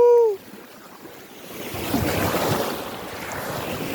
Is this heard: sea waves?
yes